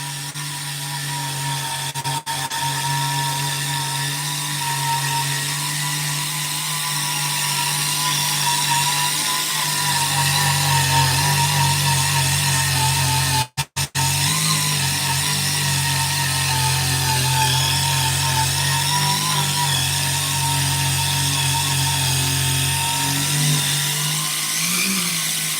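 A power tool fitted with an eraser wheel whines steadily and loudly for a long stretch while it strips the GTO stripes off a 1971 Pontiac station wagon, with one brief dropout partway through.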